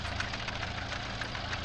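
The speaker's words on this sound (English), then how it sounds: "I like driving this tractor" A tractor engine runs steadily with a dense knocking, chugging drone that holds even and continuous throughout, with no voices.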